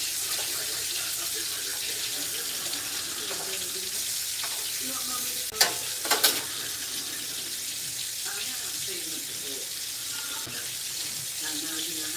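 Pork chops frying in bacon grease in a pan, giving off a constant bright hiss and sizzle with a few sharper pops and crackles near the middle, close and steady with no one speaking.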